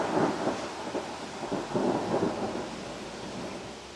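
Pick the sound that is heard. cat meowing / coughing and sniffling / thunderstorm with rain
thunderstorm with rain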